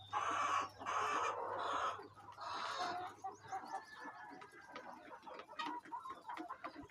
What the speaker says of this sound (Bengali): ওই মাথায় আরেকটা রয়েছে, এখানে 3টা মোরগ রয়েছে